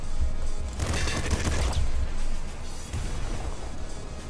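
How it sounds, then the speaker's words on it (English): Double revolvers firing in Nuclear Throne, a dense rapid burst of overlapping gunshots that swells then tails off into quieter scattered game noise. "We're gonna give it the double revolvers one more try."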